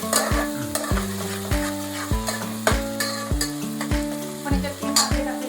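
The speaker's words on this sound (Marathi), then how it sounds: "कांदा व्यवस्थित होईपर्यंत फ्राय करायचा." Onions fry in a pan with a loud, dense sizzle while a metal spoon repeatedly scrapes and knocks against the pan in a fairly regular rhythm, close-up, with ringing metallic tones and no talking.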